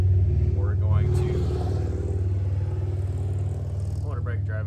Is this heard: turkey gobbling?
no